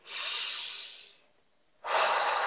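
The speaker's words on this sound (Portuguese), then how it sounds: "faço aquela respiração pausada" Slow, deliberate breathing done to release stress: a long airy breath close to the mic, a pause of near silence, then another strong breath starting up.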